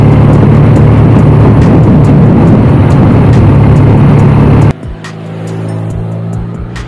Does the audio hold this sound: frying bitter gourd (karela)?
no